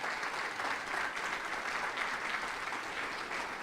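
A church congregation applauds with steady, dense clapping that stays even and sustained, with no pause and no voices on top.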